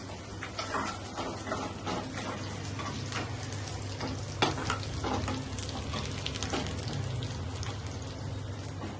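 Dry red chilies sizzle and crackle in hot tempering oil in a clay pot, a steady dense frying hiss with scattered pops and light stirring, close and continuous, no talk.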